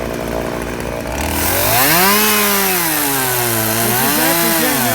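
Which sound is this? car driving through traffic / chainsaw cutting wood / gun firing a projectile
chainsaw cutting wood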